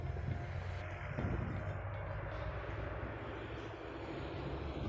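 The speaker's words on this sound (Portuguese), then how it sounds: "O drone está lutando contra o vento" A camera drone flying high over construction work fights a headwind, giving a steady airborne motor whir mixed with rushing wind noise throughout.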